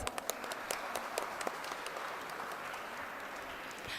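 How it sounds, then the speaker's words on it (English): Audience applause for the guests at a media and society event, a faint, fairly steady patter of many hands from a distance, with no talk over it. "Can we please have a huge round of applause for all our guests?"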